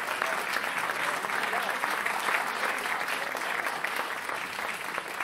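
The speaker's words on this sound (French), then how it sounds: "on va l'applaudir très fort" A studio audience at a French Sunday-evening TV variety show applauds loudly and steadily, dense clapping that stays even from start to finish.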